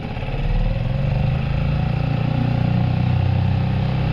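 A fast outboard motor on a plastic jon boat drones loudly and steadily, its engine note rising slightly as throttle is increased, close and continuous with no talk.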